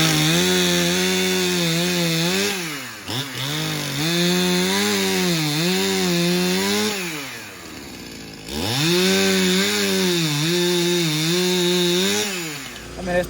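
A chainsaw cutting fallen trees into firewood, loud and close, its engine rising and falling in long strained bogs as the chain bites into the wood, with a brief dip between cuts.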